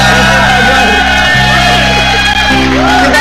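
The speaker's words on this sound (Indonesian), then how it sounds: "tepuk tangan dong untuk Stuart dan juga" A studio audience on a TV variety show cheers for Stuart with loud, continuous shouts and whoops blended with music, filling the room.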